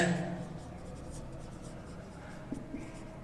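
A pen or marker writes on a board during a geometry lesson on circles and tangents. It makes soft, faint scratching strokes in a quiet room, with a voice briefly audible at the start.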